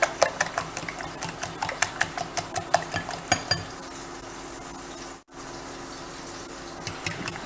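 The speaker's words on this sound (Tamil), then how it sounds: "நல்லா பீட் பண்ணு. ஒரு 5 நிமிஷம் அடித்தா போதும்." Eggs are beaten with a utensil in a bowl for a bread omelette, a rapid run of light, regular clinking taps for a few seconds before the whisking stops and the room goes quiet.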